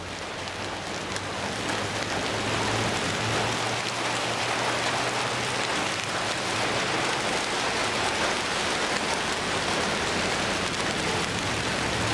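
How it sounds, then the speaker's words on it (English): Hail pours down in a dense, unbroken patter on surfaces nearby, a loud and constant roar of impacts with a faint low hum beneath and no voices. "This is the second round of hail that's coming in."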